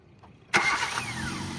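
A car engine cranks and catches with a sudden roar, then settles into a steady idle close by.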